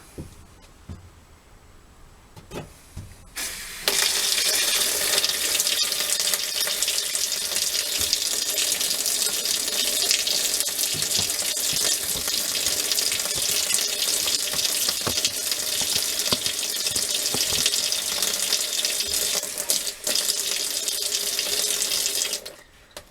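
Water gushes steadily from a tap fed through a Vevor 8 kW tankless water heater, starting after a few seconds of quiet handling and running loud and constant with a hissing, splashing rush, briefly dipping near the end.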